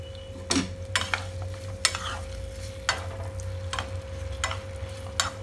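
Chopped potatoes and carrot going into a frying pan, several scraping stirs and knocks against the pan over a soft sizzle and a steady background hum.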